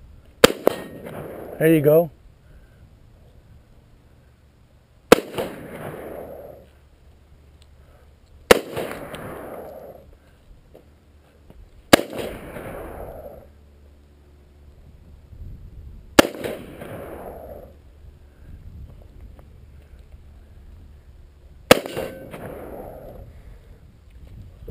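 Six gunshots from a .38 Special revolver fired outdoors, each a sharp, loud crack with a brief echo, spaced several seconds apart, with people talking between shots.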